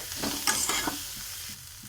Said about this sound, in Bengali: এবারে আমার এই চাউমিনগুলো যেগুলো ছিল আমি এখানে দিয়ে ভালো করে ভাজা ভাজা করে নিচ্ছি